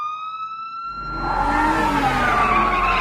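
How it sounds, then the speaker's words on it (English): A Russian police car siren starts as a steady high tone, then a loud, rough blare of roaring noise surges in after about a second and keeps going. "It's a Russian police car."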